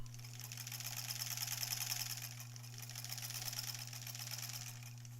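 A sewing machine runs steadily, stitching quilt-as-you-go blocks with a fast, even mechanical whir and a constant motor hum, close and alone without talk.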